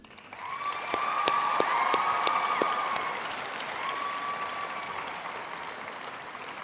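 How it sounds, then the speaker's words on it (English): Graduates at a university autumn graduation ceremony applaud their families, a broad sustained round of clapping from a large hall crowd with a faint tonal hum running through it, swelling early then holding steady. "I would also now like to request our graduates to applaud their families, friends, partners, and spouses for their support over all these years"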